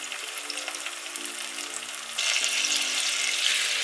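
Liquid with vegetable stock and lime juice in a hot pan, a steady broadband sizzle and spitting hiss that grows noticeably louder partway through, close and continuous with no talking.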